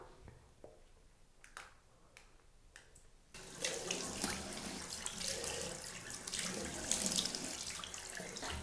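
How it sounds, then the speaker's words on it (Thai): Tap water runs into a bathroom sink while a toothbrush is rinsed and a face is washed; a few soft clicks and taps come first, then a steady, close rush of flowing water fills the rest. "ล้างแปลงสีฟัน ล้างหน้า"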